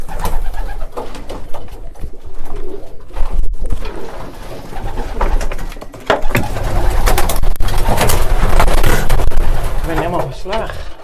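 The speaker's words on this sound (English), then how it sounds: "These pigeons are waiting to go fly, so I let them out." Racing pigeons in a loft coo and shuffle as they wait to be let out to fly, with wing flaps and sharp knocks. Someone talks and coaxes them throughout, loud and close.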